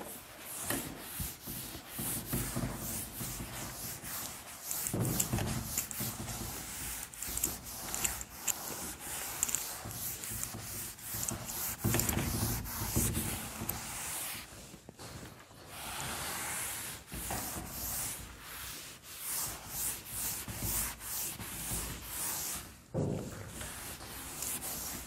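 Dry rubbing of writing off a classroom board during a Class XII maths lesson on matrices, a long run of repeated back-and-forth scrubbing strokes, fairly close and steady with brief pauses.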